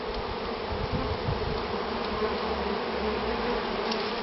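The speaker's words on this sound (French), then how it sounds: "c'est les ventileuses, celles qui ventilent la ruche" A honeybee swarm fans at the hive entrance during a swarm collection in Loudéac, Brittany. A dense, steady buzzing of many bees holds close and even for the whole stretch, with no voices.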